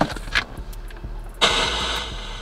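Car engine cranking and catching in a Cutlass, a short burst of starter noise followed by a steady idle with broadband rumble and hiss, no voices.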